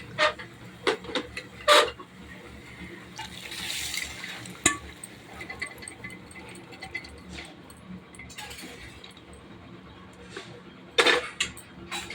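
Boiled peas tipped into a pot of cooked-down spice paste for ghugni, a few sharp metallic clanks and scrapes of utensils over a low background sizzle, with louder clatter near the start and end, no talking.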